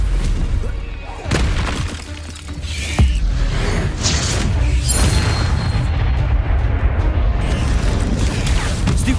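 A Stupefy spell fires in Hogwarts Legacy amid a duel, sharp magical bursts and booming, shattering impacts with creaking, whooshing textures, loud and layered, with a voice calling spells nearby.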